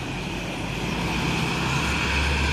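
A Jetbus 3+ Voyager coach with an aftermarket exhaust drones past on an Indonesian roadside, a steady broad engine roar that grows slightly louder over a few seconds, with no speech.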